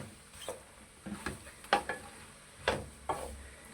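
Finely chopped ridge gourd sabzi with fried green chillies is stirred in a pan, a series of soft scraping, clattering strokes with faint sizzling between them, close and fairly quiet.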